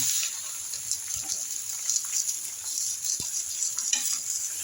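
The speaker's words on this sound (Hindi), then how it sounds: "तो अब इसमें हम डालेंगे चिकन" Chicken pieces hitting frying onions in a home kitchen pan, giving a steady, close hissing sizzle that holds at an even level throughout, with faint stirring scrapes and no talking.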